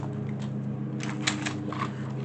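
Thin scrap cardboard being cut for a journal spine, soft scraping and snipping strokes in a quick irregular rhythm, close and faint over a steady low hum.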